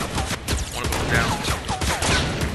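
Gunfire crackles continuously through a video game shootout, a dense flurry of sharp overlapping shots mixed with whizzing effects, loud and close throughout.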